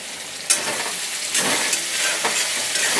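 A chochchori vegetable dish fries in a pan with a loud, steady sizzle and crackle, broken by scraping stirs.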